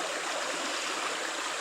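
Steady, close rush of river water flowing over stones, a dense continuous burble with no break and no voices.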